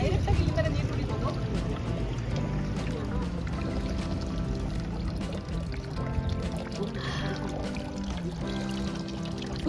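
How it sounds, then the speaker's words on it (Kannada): Cold drinking water pours steadily from a public fountain in Switzerland, a continuous splashing flow heard close up that runs through the whole stretch with outdoor background noise. "ಇದು ಡ್ರಿಂಕಿಂಗ್ ವಾಟರ್, ನಾವು ಡೈರೆಕ್ಟ್ ಆಗಿ ಈ ತರ ನೀರು ಕುಡಿಬೋದು."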